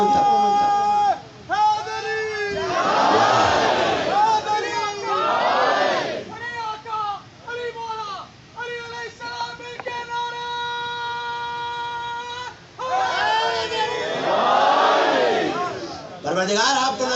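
A large congregation at a Muharram majlis in an imambargah chants a religious slogan in loud, rhythmic unison, rising in several swelling bursts with brief pauses between, the massed voices filling the hall.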